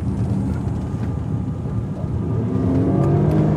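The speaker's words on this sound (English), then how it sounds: "The exhaust sound on this is kind of weird, like a UPS truck" A 2024 Volkswagen Atlas SUV engine drones and its exhaust rumbles louder as it accelerates, a low steady growl building toward the end with no talking.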